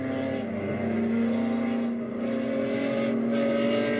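Corvette race car engine howling at full throttle in third gear during a wheel-to-wheel endurance race at Barber, a loud, sustained close-up roar with rising pitch.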